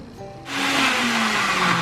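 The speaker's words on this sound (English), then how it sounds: "So the blender did a pretty good job grating the carrots" A kitchen blender grinds raw carrots, kicking in after a half-second of quieter hum and then holding a steady, loud, rough whirring drone with a low motor tone running underneath.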